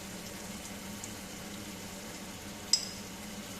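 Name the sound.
Bengali prawn curry with ghee simmering in a pan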